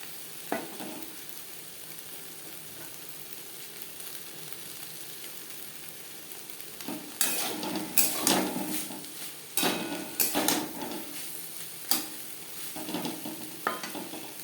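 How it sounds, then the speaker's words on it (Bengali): Spiny gourd (kakrol) being stirred and fried with coconut in a pan over a high-to-medium gas flame gives a soft steady sizzle, joined later by louder, irregular scraping and clinking of the spatula against the pan. "হাই টু মিডিয়াম ফ্লেমে 3-4 মিনিট নাড়াচাড়া করে নেব।"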